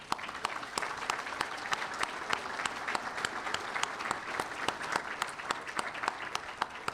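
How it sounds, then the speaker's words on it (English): A seated audience at a county economic development gathering gives a hearty round of applause, distinct claps rattling steadily for several seconds at moderate volume, with a faint murmur of voices beneath. "I'd like to give you all a hearty round of applause."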